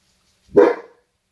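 A single short, close dog bark sounds once, loud and clear, with silence around it.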